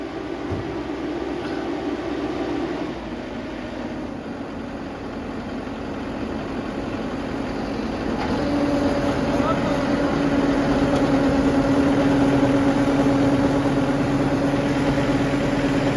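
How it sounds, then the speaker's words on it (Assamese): A paddy harvesting machine's engine drones steadily nearby, a low continuous rumble that steps up into a louder, heavier hum about halfway through, with faint voices now and then. "এই ইয়াৰ ধান কাটিলে মেচিনটোৱে, এতিয়া ধান উলিয়াব"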